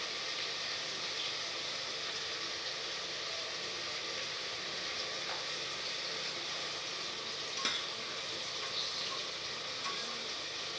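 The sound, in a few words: gravy with masala and tomato frying in a pan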